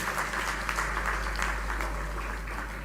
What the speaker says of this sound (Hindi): जोरदार ताली बजा के इंदौर और इंदौरियों का स्वागत करें